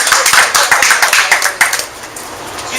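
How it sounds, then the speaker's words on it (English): Audience applause at a business networking event, a crowd clapping steadily with dense overlapping hand claps that stay fairly loud before thinning slightly toward the end. "Give Marie a big round of applause."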